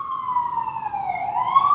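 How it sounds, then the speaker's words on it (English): A wailing siren with a slowly falling and rising pitch sounds steadily from a moderate distance over low traffic rumble. "Sorry for the sirens."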